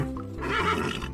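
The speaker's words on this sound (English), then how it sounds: "Caballo" A horse neighs in one close, clear whinny that rises and trembles for about a second, standing alone with no talk.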